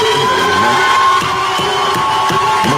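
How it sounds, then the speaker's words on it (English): A crowd at a city council meeting cheers and shouts loudly and continuously, a dense roar of voices swelling together in the chamber. "And the crowd goes wild."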